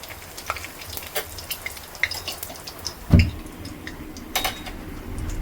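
Cumin seeds and bay leaf sizzle in hot oil for a Bengali home lunch. A steady crackling hiss is broken by scattered pops, with one sharp, louder burst near the middle.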